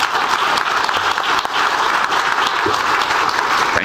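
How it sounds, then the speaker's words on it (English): A conference audience gives a loud, steady round of applause for a defence minister, a dense wash of clapping that holds without pause throughout. "A loud applause for sir"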